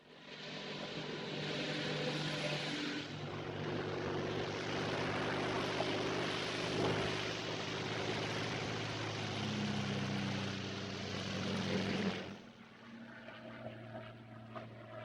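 A Royal Air Force propeller plane drones steadily in flight, a loud continuous engine roar that holds for about twelve seconds, then drops to a lower, quieter hum.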